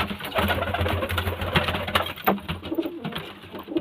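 Pigeons coo steadily in a loft, low murmuring calls layered and overlapping throughout, fairly close with a busy background of flock sounds.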